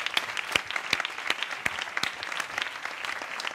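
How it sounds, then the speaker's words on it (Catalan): An audience applauds a guest on a Catalan comedy talk show, dense steady clapping from a small indoor crowd that carries on without voices over it. "doncs fora aplaudiment també pel Niño a la Hipoteca."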